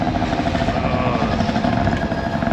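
Moped engine running steadily while being ridden, with a continuous rattly, buzzing drone and dense broadband clatter held at a close, loud level throughout.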